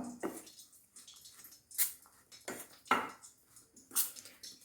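Potato pakoda batter is mixed with spice powders in a bowl. The sounds are close, faint, irregular wet squishes and soft scrapes in several separate bursts, with quiet pauses between them and no speech.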